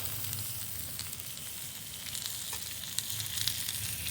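Oil sizzles and crackles steadily in two pots over an outdoor fire while ackee and saltfish are cooked in the Jamaican countryside, a continuous close hiss with small pops and no talking.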